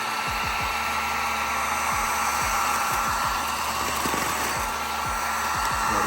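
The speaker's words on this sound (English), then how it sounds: "So we're just gonna take this heat gun." A heat gun blows hot air in a loud, steady, close hiss that holds unbroken throughout, with faint low taps and clicks scattered underneath.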